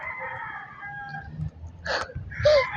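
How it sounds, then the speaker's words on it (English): A rooster crows among chickens on a hillside in the Sierra Madre, a drawn-out cock-a-doodle-doo followed by short clucks and squawks, fairly close. "there's chickens"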